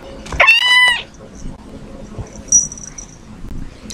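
A kitten meows loudly and close to the microphone, one drawn-out cry with a rising and falling pitch. Faint rustling and a brief high squeak follow.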